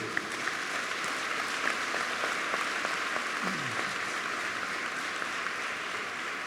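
A church congregation applauds for the King during a pastor's sermon, sustained clapping that holds steady throughout over a faint tonal hum.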